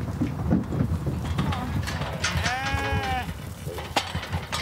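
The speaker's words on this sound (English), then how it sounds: "sheep are out on pastures for most of the year" Sheep on open pasture bleat in a few drawn-out, wavering calls from a flock, heard amid soft rustling and scattered background noise.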